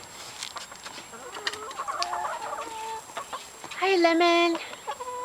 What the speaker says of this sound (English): These are our chickens, Lemon, Pepper, Licorice, and Ginger.